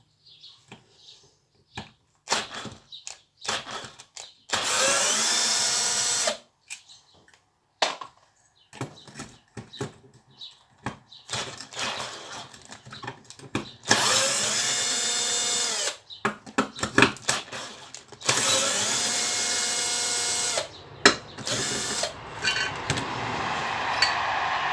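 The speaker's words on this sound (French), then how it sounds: "Ça va plus vite avec une visseuse. Alors, on va dévisser le pot." Cordless screwdriver backing out the muffler screws on a rusty Stihl FS90 4-Mix brush cutter, three long whirring bursts separated by clicks and handling clatter, close and loud with no talk.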